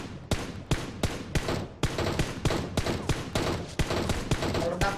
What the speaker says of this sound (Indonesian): Mobilnya tembakin.